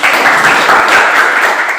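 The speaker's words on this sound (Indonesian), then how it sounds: "tepuk tangan untuk Edi" Audience applause for a presenter in a classroom, a dense steady wash of many hands clapping that stays loud and even, then tapers slightly at the end.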